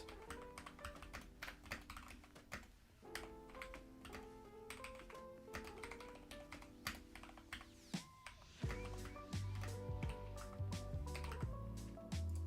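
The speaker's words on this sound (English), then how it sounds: "I will just start typing it out." Rapid computer keyboard typing during a SwiftUI coding livestream, a steady run of light clicks and taps mixed under continuous background music.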